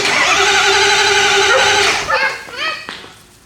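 A rebuilt Ford 6.0 Powerstroke diesel engine cranks and turns over loudly and close by for about two seconds, then sputters and falls off with uneven rising and falling tones as it catches.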